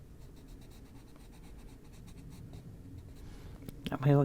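Colored pencil shades across paper in an adult coloring book, making quick, close scratchy strokes in a fast back-and-forth rhythm, and a voice speaks briefly near the end.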